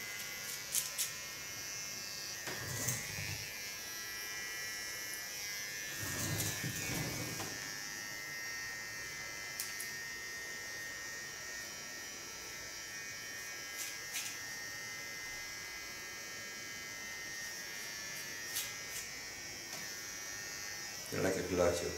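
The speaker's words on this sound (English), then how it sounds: "What I like about clippers of Kiona is that they don't hurry you up. It sounds so peaceful and so quiet." Electric hair clippers hum steadily through a pixie haircut in a salon, a soft, quiet, continuous buzz with brief louder swells as the blades move, and no voices.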